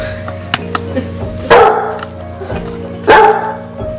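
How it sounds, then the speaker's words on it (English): A 9-month-old basset hound gives two loud, deep barks about a second and a half apart, close by, with quieter indoor noise between them. "She's a 9-month-old basset hound."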